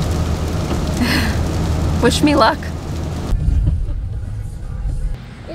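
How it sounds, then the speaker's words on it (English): Heavy downpour drums on a car while driving, a dense steady wash of rain noise with low road rumble throughout; someone speaks briefly partway through, and the rain stays loud to the end. "So we're 4 miles away and it's downpouring."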